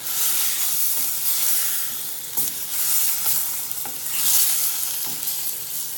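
Frozen tofu cooking in a pan with chili pepper sauce hisses loudly and steadily, with a few sharp knocks and scrapes of stirring rising and falling through the sizzle, no voices.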